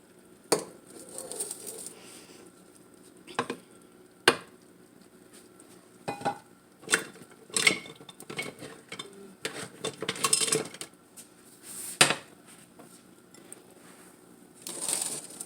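Vegetarian Mediterranean pasta with feta and artichokes is served into a bowl with scattered clinks, taps and scrapes of a utensil against the dish, close and uneven, with quiet gaps and no talking.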